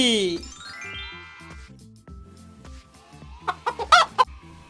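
A cartoon chicken clucks in quick short bursts near the end of a Bengali children's counting song, over bright sung melody and musical backing.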